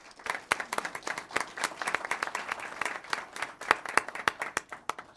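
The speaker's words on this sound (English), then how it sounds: "Let's give her a round of applause." A small audience at a city council meeting claps for an employee being honored, with sparse, distinct hand claps in an uneven rhythm.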